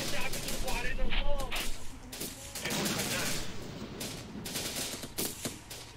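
Rapid bursts of gunfire and scattered shots crackle through a firefight in the Syrian war strategy game Syrian Warfare, with a voice talking over the steady background of the battle.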